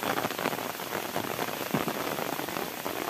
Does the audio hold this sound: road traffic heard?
no